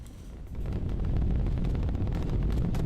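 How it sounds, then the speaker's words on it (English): Rocket engine rumble at launch in Kerbal Space Program 2: a loud, steady low roar that swells after the first half second and holds as continuous thunderous noise with no talk. "I'm not sure if you can hear the engine thunder."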